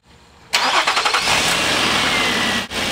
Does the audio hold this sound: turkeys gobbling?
no